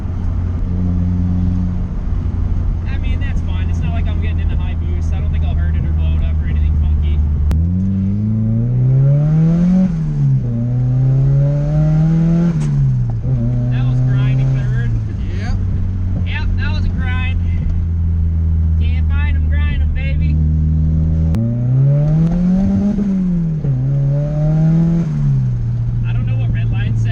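A cheap Mazda Miata's engine pulls under light boost in loud, repeated surges, the revs rising and falling over a constant in-cabin drone, with people talking throughout.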